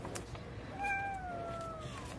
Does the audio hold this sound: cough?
no